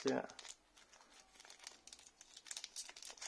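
Pokémon Diamond and Pearl trio box packaging crinkles as its cardboard tab is pulled open, a brief crumpling burst up close followed by lighter rustling and handling noises.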